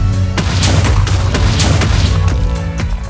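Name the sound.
creeper explosion in Minecraft video game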